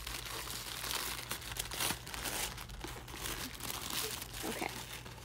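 Tissue paper is unwrapped from an Erin Condren academic planner, giving soft, continuous crinkling and rustling up close, fairly quiet, with a faint low hum underneath.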